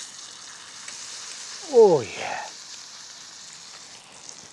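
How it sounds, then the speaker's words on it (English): Meat cutlets sizzle steadily on a generous cooking surface in an outdoor bushcraft setting, a soft continuous frying hiss under a brief spoken exclamation. "would you listen to that sizzle, ladies and gents"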